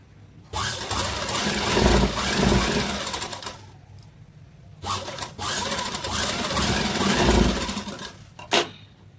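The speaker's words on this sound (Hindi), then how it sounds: "पहले हम साइड से कच्ची सिलाई लगा देंगे।" A sewing machine runs basting stitches on a princess cut blouse in two long bursts of rapid mechanical whirring, close and loud, with a short pause and a final click.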